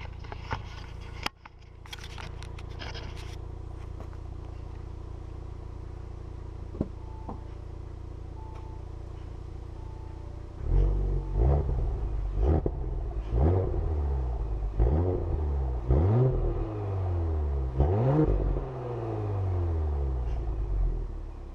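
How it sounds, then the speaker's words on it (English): Audi TT exhaust at idle with a steady low rumble, then a series of sharp throttle blips and revs that rise and fall repeatedly, loud and close, with no talk. "Give you a little sound clip of the exhaust if you want"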